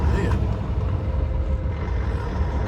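An old Peterbilt truck passes nearby with a steady, loud engine rumble that holds evenly throughout, heard from a vehicle out on the road.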